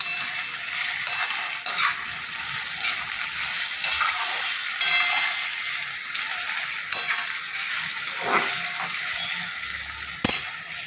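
Green chilies frying in oil for kande pohe, a loud close sizzle with frequent scraping and clanking as a spoon stirs against the pan, no talk.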